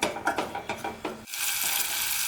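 Chicken searing in olive oil in a pan, with a few clinking scrapes and stirring knocks at first, then a steady loud sizzle that fills the rest of the moment.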